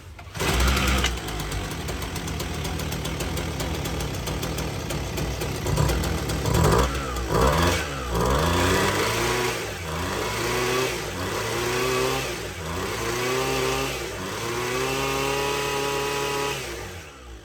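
A McCulloch ErgoLite 6028 two-stroke chainsaw engine starts with a buzz, then rises and falls through repeated revs before settling into a steady, loud idle nearby.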